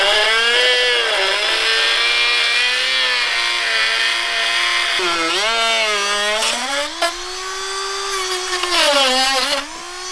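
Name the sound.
Bashan Motomax 250 motorcycle engine running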